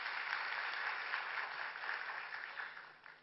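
An audience applauds at a ceremony handing over bilingual ASEAN children's storybooks: a steady, even patter of many hands at moderate level that tapers off near the end.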